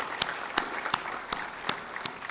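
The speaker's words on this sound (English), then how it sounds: "A round of applause." Sharp, evenly spaced claps ring out at a steady rhythm as an audience at a Model UN closing ceremony applauds the teachers, over a constant background hum.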